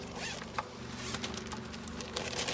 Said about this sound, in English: I keep mine in a plastic bag